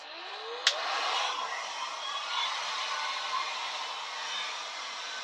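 A heat gun blows hot air onto a car panel in a cold workshop to soften vinyl wrap, a steady breathy roar after a sharp click and rising whine as it switches on, continuous and close.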